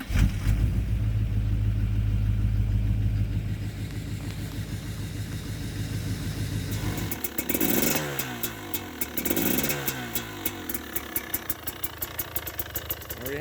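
A KTM 300 XC TPI two-stroke motorcycle engine cold-starting at -2°C: heavy low cranking drone, then the engine catches and revs in rising bursts before settling into a crackly, rapid idle close by.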